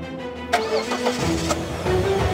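A car engine cranks and catches, then settles into a mid-pitched rumble, with background noise and no talking.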